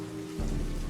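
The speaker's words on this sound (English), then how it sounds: "It's raining." Steady rain inside a video game comes in abruptly partway through as a dense, broadband hiss that stays loud and even, replacing a quieter tonal background hum.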